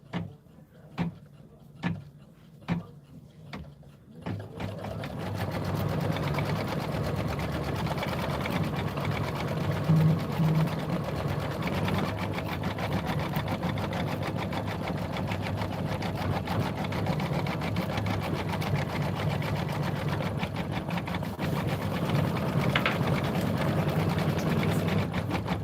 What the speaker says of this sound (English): it's gonna do the satin stitch around the windows